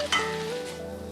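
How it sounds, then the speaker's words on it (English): Minced meat browning in a hot frying pan, giving a close, steady sizzle and crackle that carries on alone without any talk. "my mince is browning really nicely now"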